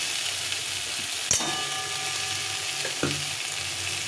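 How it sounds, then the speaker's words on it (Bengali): Tomato being sautéed with potato and eggplant in spices for a leafy-greens ghonto, a steady close sizzle with two brief stirring knocks of a spoon in the pan; no talking. "টমেটোটাকে এর সঙ্গে একটু কষিয়ে নিতে হবে"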